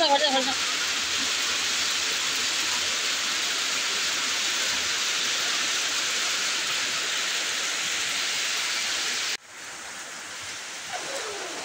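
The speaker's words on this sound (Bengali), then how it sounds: "এদিকে দেখো বৃষ্টি হচ্ছিল, প্রচণ্ড বৃষ্টির মধ্যেও রান্না করতে হবে" Heavy rain pours down in a dense, steady roar of broadband hiss, loud and unbroken for most of the stretch before dropping away sharply near the end, with no voices over it.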